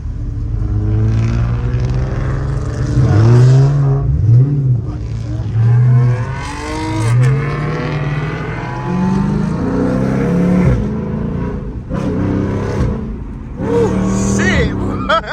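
A Dodge Charger Scat Pack engine revs up and down repeatedly, rising and falling in pitch, loud and close, with people talking excitedly over it.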